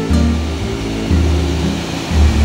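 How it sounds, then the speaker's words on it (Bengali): Usri waterfall in Giridih, Jharkhand, reduced to a thin dry-season flow, heard as a loud, steady roar of falling water that fills the scene with rushing noise. "এই ফলসটার নাম উষ্ট্রি ফলস।"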